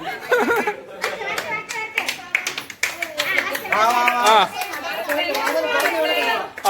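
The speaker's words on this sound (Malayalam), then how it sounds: "ആ കൈയടിച്ചു കൊടുത്തോ." Family members clap their hands at an Onam celebration, the claps arriving in quick, uneven bursts at close range, mixed with excited chatter and shouting voices throughout.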